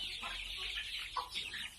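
Month-old chicks cluck and chirp together inside a coop, a busy, continuous flock chatter at close range with a few slightly louder calls standing out.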